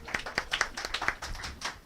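A congregation at a Sunday worship service claps in welcome, a modest scattering of hand claps in a loose rhythm, fairly quiet and coming from a small group rather than a large crowd.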